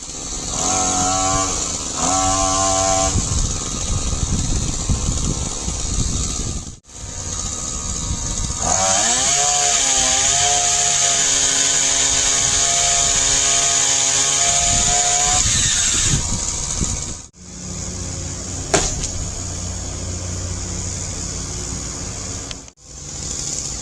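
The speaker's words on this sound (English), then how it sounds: "the old man had switched to using the weed whacker with the limbing attachment" A weed whacker with a limbing attachment cuts tree limbs, its small engine buzzing loudly and revving up into long cutting bursts, with brief drops to idle or silence between passes.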